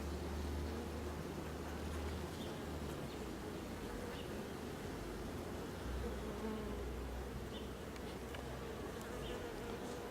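Honeybees buzz steadily around an open hive during a late July inspection, a dense, continuous drone close to the microphone with occasional individual bees passing louder.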